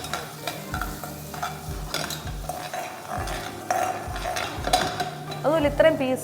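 Finely chopped green chili and garlic sauté in a pan for a Kerala-style beef peralan, under repeated scraping strokes of a spatula against the metal. A soft sizzle runs beneath the rhythmic stirring, close and without voices.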